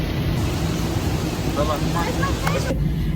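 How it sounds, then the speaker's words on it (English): Heavy rain pouring during a stormy day in Miami, a steady broadband hiss throughout with a brief voice partway through. "It's pouring."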